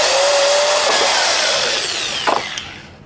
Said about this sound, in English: This is a drill bit for wood and it's a size 5, and I think that's probably about the right size.